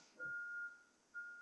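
A truck's reversing beeper sounds faintly from outside a window: a long steady electronic tone, a pause, then another tone starting near the end, over a quiet room.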